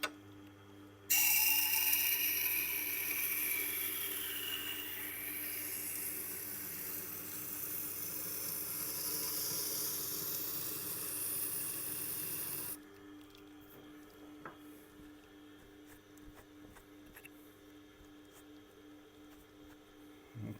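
A fish filleting knife is sharpened on a wheel at a 12° angle, with a continuous grinding hiss that runs for about twelve seconds and then stops, leaving faint scattered ticks.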